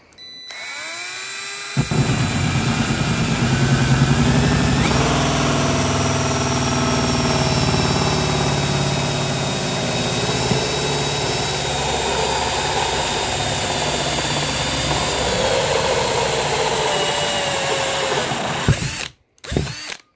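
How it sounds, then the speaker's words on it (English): A power drill with a 70 mm hole saw spins up and grinds steadily through material, loud and close, its whine shifting slightly before winding down near the end. "I'm going to go with the 70 millimeter hole saw."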